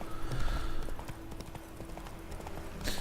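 A horse in The Witcher 3 clip-clops along at a steady walking rhythm, with a soft hiss of ambience and a brief brighter burst at the end.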